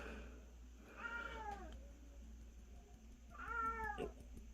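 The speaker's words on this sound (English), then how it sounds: "Sorry about my cat there." Two drawn-out cat meows, the second slightly louder, separated by a pause over a quiet room hum.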